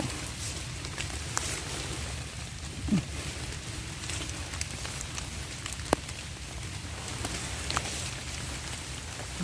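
Steady rain patters down as a continuous wash of noise, with occasional louder drips and small knocks standing out.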